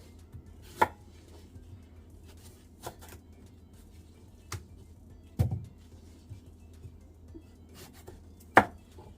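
A knife chops fruit into pieces on a cutting board, producing four or five sharp, isolated knocks spaced a second or two apart in a quiet kitchen.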